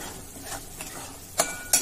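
Spices and a few curry leaves being stirred in a hot pan while making a spicy sole and brinjal curry: soft scraping sizzle throughout, with two sharper utensil clinks near the end.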